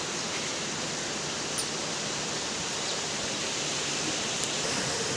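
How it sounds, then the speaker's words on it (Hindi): Heavy, continuous rain pouring down outdoors overnight, a dense steady hiss that fills the whole scene at an even level with no pauses, near and enveloping, with only a couple of faint brief clicks above it. "रात भर से बारिश हो रखी है"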